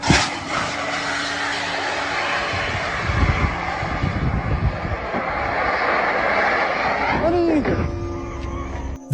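An airplane comes in to land at Tokyo Haneda International Airport during a catastrophic incident, a loud steady roar of engines building and holding, with whining tonal sweeps rising near the end.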